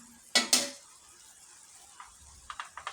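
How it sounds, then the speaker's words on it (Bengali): A wooden spoon stirs rice in a pot, giving two quick scraping strokes near the start and then a few soft, faint scrapes and taps toward the end, with quiet gaps between. "ভালোভাবে একটু কাঠের চামচ দিয়ে নেড়ে চেড়ে নেওয়া হয়।"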